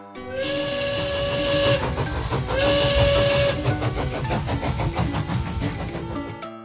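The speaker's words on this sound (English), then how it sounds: "Steam engine." A steam engine gives two sustained whistle blasts over a continuous loud hiss and chugging rumble, fading out at the end.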